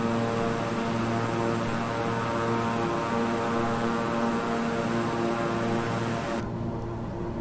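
Steady twin-engine propeller drone of a King Air 350i in Microsoft Flight Simulator, flying from Boston to Albany, with layered harmonic engine tones held constant throughout, then the high hiss drops away near the end as the view shifts inside.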